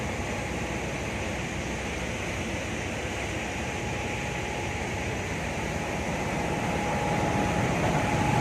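A grain-drying machine works on a batch of rice paddy, giving off a loud, steady roar and rumble that keeps going throughout with no voices.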